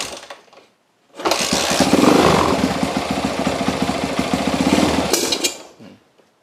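A carbureted motorcycle with ignition trouble cranks and fires up, then runs roughly at a loud, close idle for about four seconds with an uneven, sputtering pulse before it dies away.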